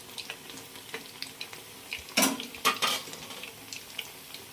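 Corn fritters (makka garelu) frying in oil over medium flame, with a steady soft sizzle and a few clattering scrapes of a spatula turning them in the pan.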